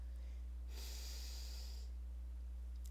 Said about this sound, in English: Begin by taking a deep breath.